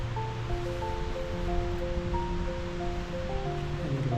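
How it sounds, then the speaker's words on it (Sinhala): Water rushing down a slope in a stream on a hiking trail from Kalugala toward the Na Ella waterfall in Sri Lanka, heard as a steady, close, broadband wash with faint sustained tones running through it and no talk. "වතුර ගලාගෙන යන විදිහ"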